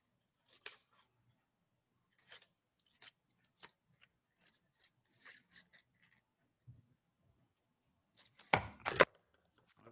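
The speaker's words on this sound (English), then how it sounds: "So if I cut it out," Scissors cut out a paper shape, a handful of sparse, faint snips spread across the stretch, ending in a louder cluster of close cutting and paper rustle, with no talking.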